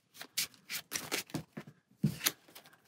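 Sleeved cards from the DC Deck Building Game being riffle-shuffled in several quick, crisp bursts close by, with short gaps between them and no talking.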